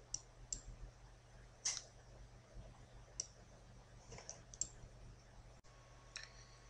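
Faint, sparse mouse clicks from a computer mouse operating Blue Sky Plan dental planning software, arriving singly at irregular intervals over a quiet, steady room hum.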